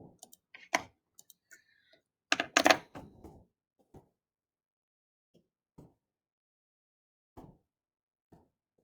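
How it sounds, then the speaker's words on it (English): Calculator buttons pressed to enter numbers, heard as quiet, sparse clicks and taps in irregular bursts with a denser cluster partway through and long silent gaps between presses. "I'm going to go ahead and type this in the calculator"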